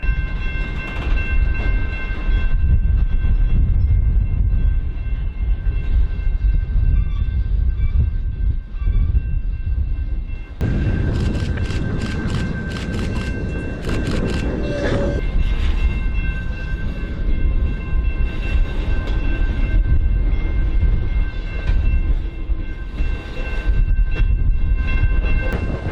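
A Norfolk Southern freight train led by an SD60 locomotive rolls past loud and near, with a steady diesel rumble, grinding and clanking wheels, and squealing, ringing metal that grows harsher about halfway through.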